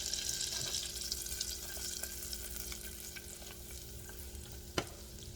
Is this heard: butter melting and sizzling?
yes